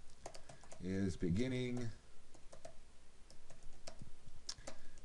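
Comments are typed on a computer keyboard, faint scattered key clicks that continue quietly around and after a brief spoken phrase.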